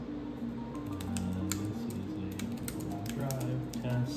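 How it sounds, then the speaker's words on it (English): Rapid clicking keystrokes on a Bluetooth keyboard used with a Boox Tab Mini C tablet running Windows 11, steady close typing over a constant background hum and tonal drone. "Typing feels all right,"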